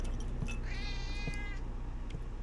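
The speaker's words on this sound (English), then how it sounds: "There's a cat." A cat meows once in the horror video game The Operator, a rising, drawn-out cry that stands out clearly over a low droning ambient background, with no talking.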